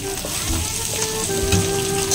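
Fish sizzles loudly in a pan, a close and continuous crackling hiss with faint tonal hum beneath, and no speech.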